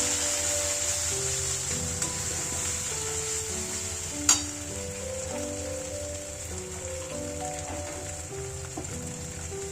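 Spice paste frying in oil in a pan, a steady soft sizzle with light stirring scrapes throughout, one sharper clink partway through, no talking.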